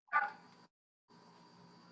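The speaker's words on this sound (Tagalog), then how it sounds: "yung aso ko maingay" A dog nearby lets out a short loud bark or yip, then falls quiet, with steady background noise resuming after a pause.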